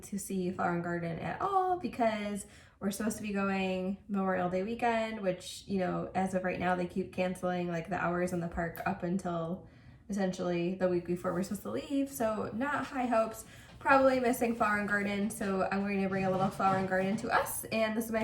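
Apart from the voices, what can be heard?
No everyday noise stands out behind the speech.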